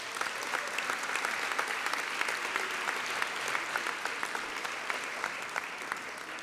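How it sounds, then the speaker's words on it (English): A graduation audience fills the space with sustained applause, dense overlapping clapping heard from a moderate distance at an even level throughout, with no one speaking. "So let's give a round of applause to just persistence."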